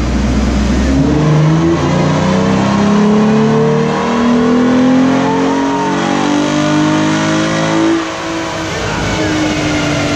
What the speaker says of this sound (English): that exhaust sounds pretty good, though